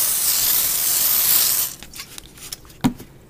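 A steady hiss of aerosol spray lasting about a second and a half, then quiet with a few light clicks and taps.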